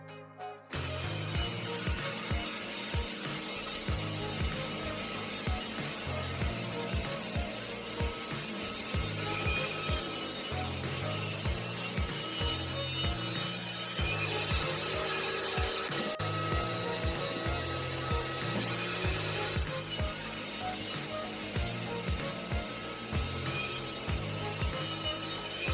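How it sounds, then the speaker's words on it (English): A table saw trims the excess off planed scrap wood, giving a loud continuous buzzing whine with a rough grinding texture that runs steadily for the whole stretch. "it's time for me to move to the table saw in order to remove the"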